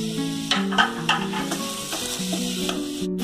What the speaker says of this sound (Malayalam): ഈ സമയത്ത് തന്നെ നമ്മൾ 4 എരിവുള്ള പച്ചമുളക് കുറുകെ കീറിയതും കറുവേപ്പിലയും കൂടി ഇട്ട് ചേർക്കും.